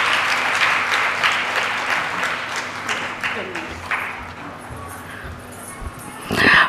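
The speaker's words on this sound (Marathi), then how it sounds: "जोरदार टाळ्या एकदा त्यांच्यासाठी" An audience at a Bharatanatyam dance performance applauds loudly. The clapping is dense at first and thins out over several seconds, and a voice speaks near the end.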